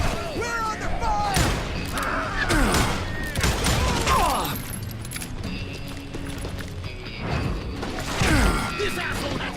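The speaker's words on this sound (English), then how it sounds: "Who's shooting at you? We're under fire!" Gunfire in a Wild West shootout in Call of Juarez: Gunslinger, several loud sharp shot bursts and crashes spread across the clip, mixed with shouting voices.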